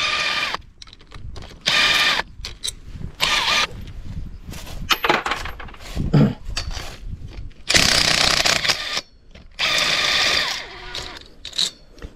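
Bolt on a metal support frame for aronia bushes being loosened with a tool while the square-shouldered back is held, giving repeated short mechanical ratcheting bursts, close and fairly loud, with brief pauses between.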